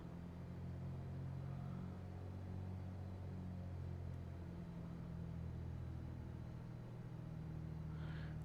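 A light aircraft's engine held at about 1400 to 1500 RPM in Microsoft Flight Simulator on an East Coast bush trip: a steady low droning hum, faint and continuous, with no talk.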